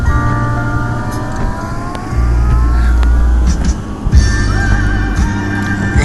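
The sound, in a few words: 4-wheel drive truck driving in a blizzard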